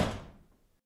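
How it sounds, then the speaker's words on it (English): A bathroom door closes with a single dull thud that fades quickly into silence. It is heard close and moderately quiet. "go to the bathroom and close the door"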